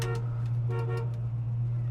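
A 1966 Ford Mustang's horn gives two short, close honks over a steady idling engine.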